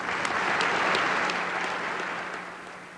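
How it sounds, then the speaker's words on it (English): Polite applause from an audience of assembled ambassadors at a diplomatic gathering, a steady, moderately loud wash of many hands clapping that slowly tapers off, with no one speaking over it. "the polite applause of the assembled ambassadors"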